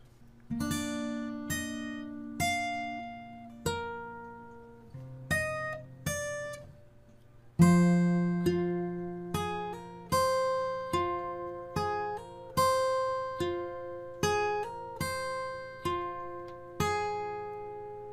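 Fingerstyle guitar plays a clear, measured melody from the Game of Thrones theme with plucked notes over low bass notes, each note ringing and decaying, solo with no voices.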